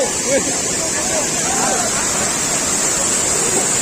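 Rushing water at Sildubi waterfall, a loud, constant roar and hiss that fills the whole clip, with faint voices of people at the picnic spot in the background.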